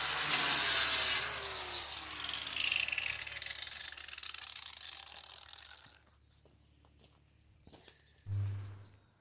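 Metal is smoothed by hand for the hinge area of a custom drop tailgate. A harsh, bright burst of scraping opens, fading into softer rasping strokes, then a quiet pause and a low thump near the end.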